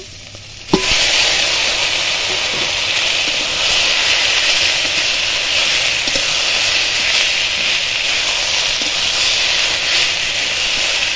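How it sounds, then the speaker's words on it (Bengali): Taro stolons (kochur loti) hit hot oil with a sudden burst, then settle into a loud, steady sizzle that holds unbroken for about ten seconds, close up and without any voice. "এবার কচুর লতিগুলো ঢেলে দেব।"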